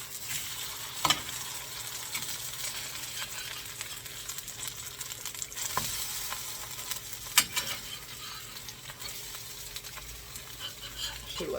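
Breaded veal and mushrooms frying in a pan, a steady close sizzle with occasional clinks and stirring scrapes, no talk.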